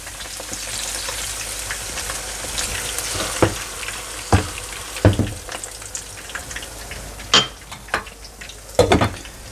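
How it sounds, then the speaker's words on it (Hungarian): Potatoes fry in a pan during outdoor cooking on Spain's Costa Blanca coast. A steady close sizzle runs throughout, broken by several sharp crackling bursts and clinks as water is added. "Egész jól néz ki, akkor teszek rá egy kis vizet"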